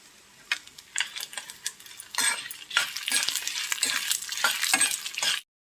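Coriander seeds, cumin and dried red chillies sizzle and crackle in hot oil in a pan while a spoon stirs and scrapes. The frying is close and loud and grows denser and busier toward the end.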